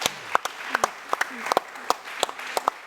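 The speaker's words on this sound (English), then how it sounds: "I think we can also applaud that." A conference audience at a session on building a community of practice for collective action gives a short round of scattered hand claps, a few distinct sharp claps in loose rhythm with a voice underneath.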